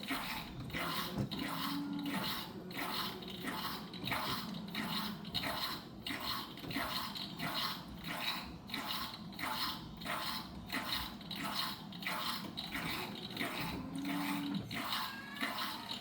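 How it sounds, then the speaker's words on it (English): The water pump of a Briot lens edger, running low on water, slurps and gurgles in a steady, rhythmic pulsing cycle, wet and mechanical, running on its own. "The slurping sound you're hearing is the pump underneath"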